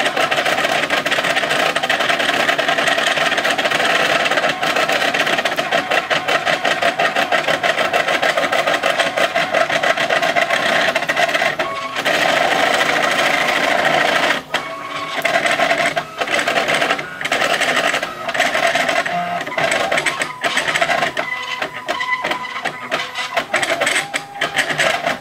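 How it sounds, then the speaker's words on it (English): A 3D printer building parts for a second Aluminatus printer, a loud continuous buzzing whir of stepper motors with rapid chattering pulses and brief shifts in pitch as the head changes direction. "It's actually printing the parts for the second Aluminatus"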